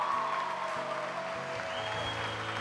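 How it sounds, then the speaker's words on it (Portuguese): Church congregation applauding, a sustained even wash of many hands clapping with a low musical tone and a held higher note beneath it. "dá um grande aplauso a esse Deus que te deu tudo isso"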